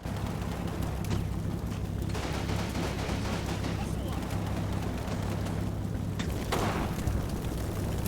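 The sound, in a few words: MG42 machine gun fire in Combat Mission video game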